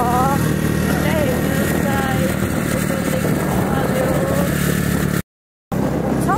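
A scooter engine drones loudly and continuously as it climbs uphill on a road trip toward Nuwakot, with someone talking over it and a brief cutout near the end.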